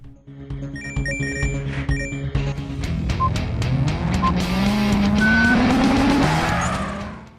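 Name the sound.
car drifting around corners in video game Drift Mania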